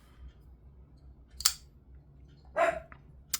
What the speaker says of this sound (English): And now he's barking.